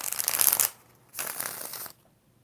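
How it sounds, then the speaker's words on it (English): A deck of tarot cards is riffle-shuffled twice, two crisp rapid flutters each lasting under a second, separated by a short pause, close and fairly loud with no talking. "And one more shuffle."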